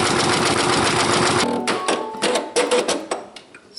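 Brother Persona PRS 100 embroidery machine stitching applique, a loud, steady mechanical whir for the first stretch, then stopping and giving way to a few clicks and clunks as it winds down.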